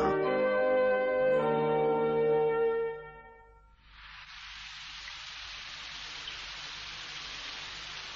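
After a fading bell-like chime, steady rain hisses evenly and continuously for several seconds, a constant soft patter without pause.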